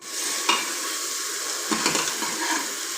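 Mutton frying in a pan with a steady hissing sizzle while a utensil stirs it now and then with brief scraping bursts. Close and continuous, with no talking.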